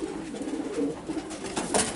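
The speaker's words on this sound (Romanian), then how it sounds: "Ăsta e un porumbel Patrick Verluse" Domestic pigeon, a breeding cock kept by a racing-pigeon fancier in Bucharest, Romania, cooing in low repeated throaty rolls close by, steady throughout with some faint background noise.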